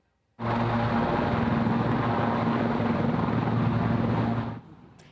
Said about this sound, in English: Santa Claus did make his way down in a helicopter